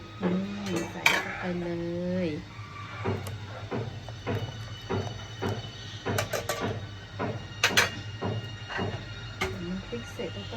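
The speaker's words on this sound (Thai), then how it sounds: "เอาน้ำพริกใส่หม้อเลยค่ะ" Metal clatter of a spoon scraping chili paste into a pot for northern Thai banana-stem chicken curry, repeated irregular clinks and scrapes with some kitchen background noise.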